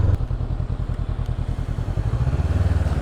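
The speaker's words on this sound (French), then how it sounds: "elle fait demi-tour toute seule cette moto" A Honda CB 500X motorcycle engine chugs at low revs as the bike turns around, a steady throbbing rumble close by with light mechanical clatter.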